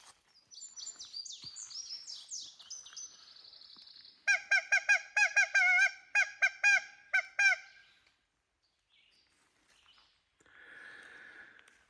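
Loud woodpecker locator call, the pallid woodpecker, played back as a series of harsh, honking bird calls: a squeaky run of notes, then a rapid stuttering burst of repeated calls, a pause and a faint final call, with no talk.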